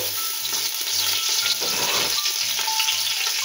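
Ginger sizzles and crackles in hot oil in a cooking pot, a continuous bright frying hiss heard up close, with a faint low hum pulsing underneath.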